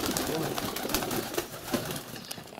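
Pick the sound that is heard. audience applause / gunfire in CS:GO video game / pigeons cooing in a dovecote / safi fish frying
pigeons cooing in a dovecote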